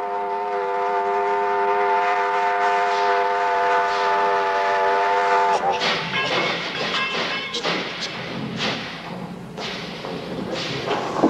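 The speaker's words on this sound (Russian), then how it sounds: "поезд номер 95 прибывает на третью платформу" A long, steady train horn blares, then cuts off into clattering, thumping rail noise as a passenger train's carriages roll in close by at a station platform.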